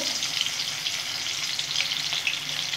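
Large pomfret fish fries in a pan with a steady, dense oil sizzle and faint crackles, close up and continuous, with no talking.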